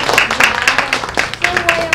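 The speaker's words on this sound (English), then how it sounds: "give yourself a round of applause" Workshop participants at a perfume-making business event clap for themselves, a short burst of scattered applause mixed with voices and chatter in the room.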